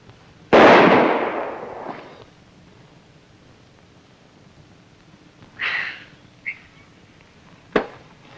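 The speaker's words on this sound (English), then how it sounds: "that's pretty good shooting" Gunshots in a western film as a marksman shoots at targets: one loud, sharp blast with a long decaying tail opens, followed after a pause by a quieter crack and two brief sharp pops.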